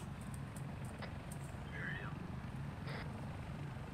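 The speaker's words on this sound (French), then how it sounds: "Et puis l'autre avec son hélico là." A helicopter in the Arma video game, its rotor giving a steady, rhythmic low thumping that runs through the whole moment at moderate distance, with faint game effects over it.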